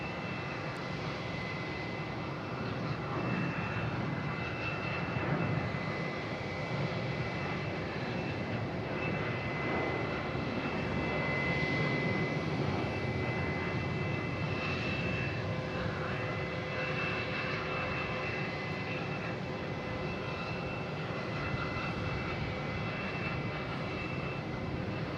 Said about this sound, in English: we got American taking off,